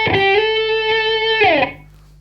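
Electric guitar run through an original Line 6 Pod amp modeler with heavy distortion and scooped mids, a fizzy, harmonically rich chord rhythmically strummed several times, then released and decaying away alone.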